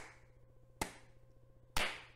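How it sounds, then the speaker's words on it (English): Two loud, sharp crowd claps ring out about a second apart during the Icelandic clap in a football video game, each a single booming hit over a low, quiet stadium hum. "It's time for the Icelandic clap."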